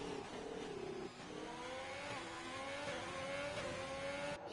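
Alfa Romeo Formula 1 car engine in the F1 2020 video game at Austria, a continuous high-pitched racing whine rising and falling through gear shifts, faint and steady without voices.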